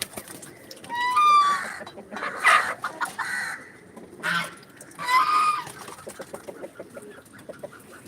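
Black chickens cluck and squawk nearby in several loud bursts, with quieter clucking chatter and faint background noise in between.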